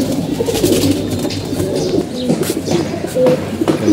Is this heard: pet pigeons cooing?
yes